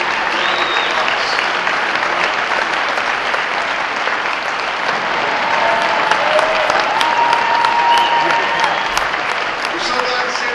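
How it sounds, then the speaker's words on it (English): Loud, sustained applause from a large gala audience at a children's hospital anniversary, steady clapping filling the whole stretch with a few cheers mixed in. "So give yourself a big round of applause."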